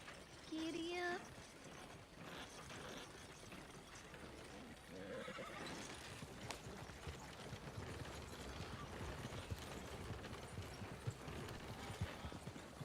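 Horse hooves clip-clop in a Western-themed video game, a steady footfall rhythm running throughout, with a whinny early on and occasional mechanical clicks mixed in.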